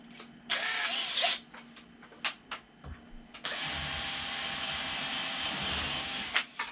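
A power drill drives a screw into a bonsai backdrop: a few short whirring bursts, then a long, loud, sustained whine near the mic before it stops.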